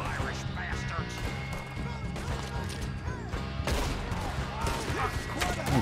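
Gunfight in the Red Dead Redemption 2 video game, with dense overlapping shots and impacts layered over game music and shouting voices, growing louder and busier in the second half.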